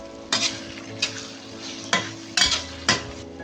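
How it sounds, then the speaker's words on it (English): Garlic browning in oil in a pan, with a steady sizzle under intermittent sharp stirring scrapes and utensil clinks against the pan, close by. "add in the garlic, and let the garlic brown"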